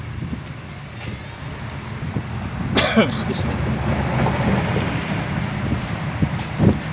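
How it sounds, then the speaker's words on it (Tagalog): Steady wind roars and buffets the microphone throughout, with a brief clattering knock partway through. "malakas ang hangin kagaya ngayon"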